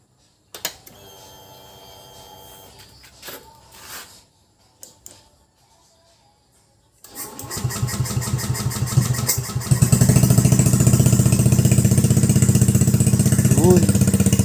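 A fuel-injected engine being converted to a carburetor is cranked and catches after some quiet shuffling, then runs loud and steady close by, rising into a strong, rough idle.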